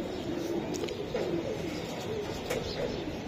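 Giribaz pigeons coo softly in low repeated murmurs, close but faint, over a steady background hum with occasional light chirps.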